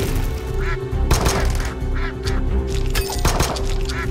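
Repeated cartoonish duck quacks from the video game Brotato sound in quick bursts over busy game music and effects, loud and close.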